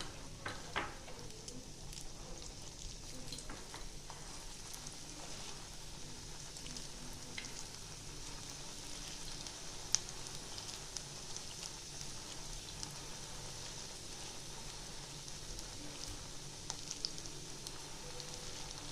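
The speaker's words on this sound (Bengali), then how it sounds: "এটা একটু 2-1 মিনিট ভাজা হবে ভালো করে, আর মিডিয়াম টু লো ফ্লেমে ভাজতে হবে।" Small corn pakoras fry in hot oil over a medium-low flame, giving a steady, soft crackling sizzle that runs throughout with occasional sharper pops and no talk.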